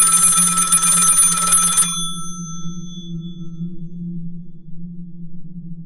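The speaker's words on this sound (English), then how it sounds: "Her hand was just about on the receiver when, to her horror, it began to ring." A telephone bell rings loudly for almost two seconds and then stops, leaving a steady low hum underneath with no voices.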